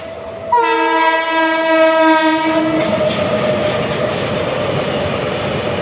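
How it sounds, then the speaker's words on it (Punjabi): A loud train horn blares for a couple of seconds as a freight train rumbles past close by, wheels clattering steadily afterward. "ਮਾਲ ਗੱਡੀ ਹੈ"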